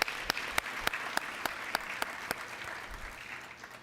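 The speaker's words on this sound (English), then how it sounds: "Can we get another round of applause for them, please?" Audience applause at a school Black History oratorical competition, a soft, distant wash of clapping with a few sharper nearby claps standing out in a loose rhythm, easing off toward the end.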